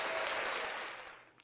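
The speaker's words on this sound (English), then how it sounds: "Let's give her a round of applause" Dense applause from a crowd swells and then tapers off over a second and a half, fading toward quiet at the end, with no voices on top.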